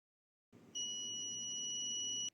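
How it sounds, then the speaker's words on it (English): The buzzer of an ESP32-based fall detection system sounds one continuous high-pitched electronic tone lasting about a second and a half, then cuts off abruptly. "The XIAO ESP32-C3 then activates a buzzer to alert"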